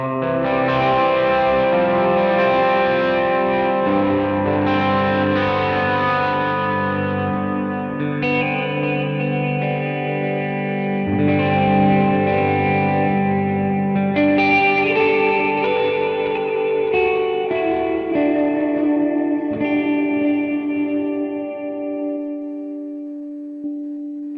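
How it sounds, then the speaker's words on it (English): Sustained electric guitar chords through an HX Stomp amp patch ring out with long echoing delay and lush reverb, notes blending and trailing into each other, no voices. "If we turn up the delay and reverb using foot switch 2."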